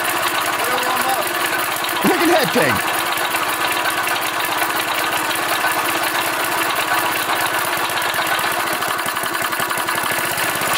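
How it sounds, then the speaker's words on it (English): A small two-stroke engine idles steadily and close by, a continuous buzzing putter throughout, while someone talks over it briefly. "She idles sweet, though."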